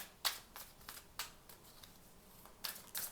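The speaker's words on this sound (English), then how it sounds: "we'll keep shuffling and see if the last one wants to jump out for us as well" Tarot cards are shuffled close up by hand, giving a quiet string of about ten soft, papery riffling bursts in an uneven rhythm, with no talking.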